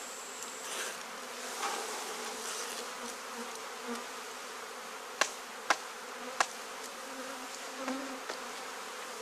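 A dense, steady buzz of many honeybees packed in a shipping package fills the space, close and continuous, with a few sharp clicks or taps breaking through near the end.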